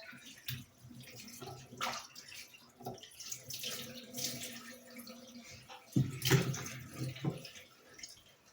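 Water runs from a cold tap into a sink in a home kitchen, a faint uneven splashing with occasional louder surges, quiet and nearby.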